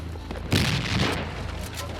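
A grenade blast in the military shooter game Project Reality: one sudden loud boom with a broad burst of debris noise, then a rumbling, crackling tail that lingers over the remaining second and a half.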